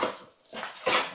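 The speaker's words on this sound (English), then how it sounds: "That's my dog." A dog whimpers on command in short, close high-pitched whines, three breathy bursts separated by brief gaps.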